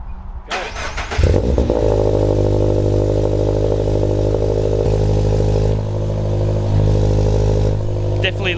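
A Subaru BRZ fitted with a new, louder exhaust cranks and fires up, then holds a loud, rumbling idle with slight revs close by, with people talking over it.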